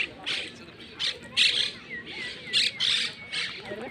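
Harsh, raspy bird squawks burst out repeatedly in quick uneven succession, fairly close, with a faint background murmur between calls.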